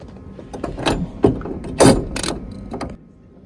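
A ratchet wrench tightens a bolt while fitting a KSport racing coilover on a Skyline R33, producing several bursts of close, loud clicking with short pauses between them.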